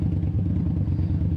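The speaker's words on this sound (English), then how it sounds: "I love how loud my bike has gotten" Motorcycle with new aftermarket mufflers, its loud engine a steady low rumble held close and constant throughout, with no talking.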